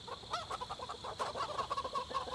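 Many chickens cluck and murmur in a farm setting in the video game Project Zomboid, a busy overlapping chorus of short clucks at moderate volume with no one speaking.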